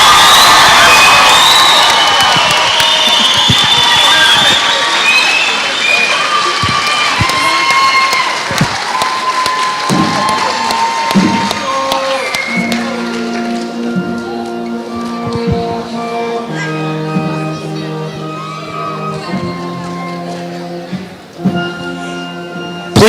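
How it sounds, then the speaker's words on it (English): Graduation crowd at a 2021 high school ceremony breaking into loud applause, cheers and whoops that fill the room, then thin out over twenty seconds into scattered clapping, voices and music-like tones. "Let's give them a round of applause."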